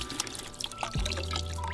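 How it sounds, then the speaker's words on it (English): Water drains out of a Graco 390PC cordless paint sprayer, a short trickle that turns into a steady, close pour with a low continuous gurgle. "drain the water out of it"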